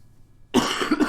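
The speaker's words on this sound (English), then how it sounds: "I hate having a cough." A single harsh cough after half a second of near silence, loud and close, followed by a couple of rougher throaty bursts with no speech.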